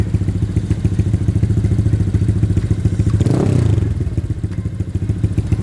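A modified Honda PCX 160 scooter engine chugs at a loud, lumpy idle, then is briefly blipped for one quick rev that swells and falls back to the rapid, even putter, close up.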